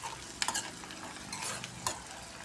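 Chopped onion, curry leaves and mustard seeds sauté in a pan with a soft, steady sizzle and a few faint scrapes of stirring, heard from nearby and quietly.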